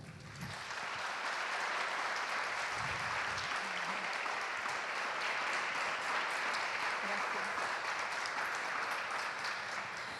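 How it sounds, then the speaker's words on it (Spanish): An audience at a conversational lecture claps steadily for a guest speaker, a broad, sustained wash of many hands that holds at an even level throughout, with a few brief voices underneath. "les pido un aplauso a Soraya Maicoño"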